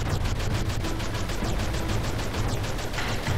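The player's aircraft gun in the PC game Wings of St. Nazaire fires in a rapid, continuous rattling stream of evenly spaced shots, loud and unbroken throughout over a low rumbling background.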